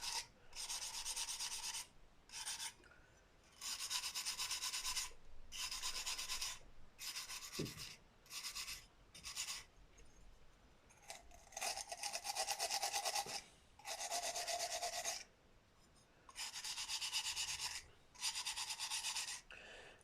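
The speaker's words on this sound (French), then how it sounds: "Passe un petit coup de brosse métallique aussi." A wire brush scrubs the outside of a Bernard W110 engine in bursts of harsh, close scratching, a few seconds each with short pauses between, no voices.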